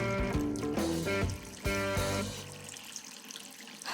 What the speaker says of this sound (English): I must have left it running when I needed some water for my plants.